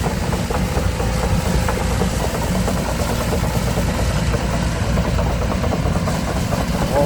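A brand-new SANY SY205H excavator's diesel engine runs close by at a constant, loud idle, with a dense, unbroken rumble and slight knocking vibration throughout.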